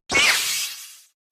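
A short, sharp lightsaber ignition: a crackling, shattering flare that quickly thins into a hiss and dies out within a second.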